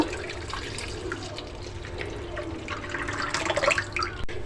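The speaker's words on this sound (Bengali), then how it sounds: "এখন আমি এই দুধটা বাটিতে ঢেলে নেব" Milk is poured into a bowl while making a sugar-free pudding, giving a steady liquid pour and splash that runs for several seconds and swells slightly toward the end, with no one talking.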